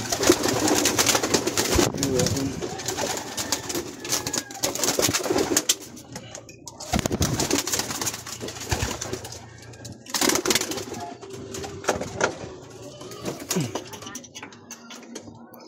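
Pigeons coo in a loft during a morning free-fly session, soft repeated calls close by amid rustling, tapping and wing movement, with people talking at times.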